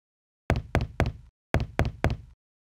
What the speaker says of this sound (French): Quand le loup frappa à la porte de la grand-mère